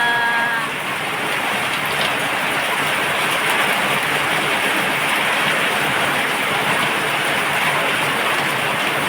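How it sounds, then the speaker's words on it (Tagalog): Continuous rain pours down in Laguna in a steady, even hiss, fairly loud and close, with no voices over it. "Sa wakas, umulan na rin dito sa amin."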